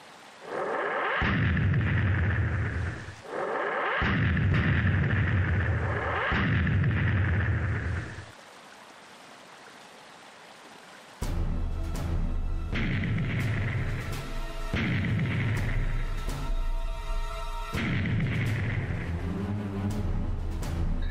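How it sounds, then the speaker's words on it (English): Veridian siege cannons in a video game battle at Enkidu Hill, heavy booming blasts in a run of rumbling bursts, a pause of near silence, then another series of deep explosive thuds. "Sounds like Veridian siege cannons."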